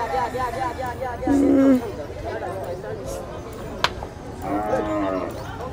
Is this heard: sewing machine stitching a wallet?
no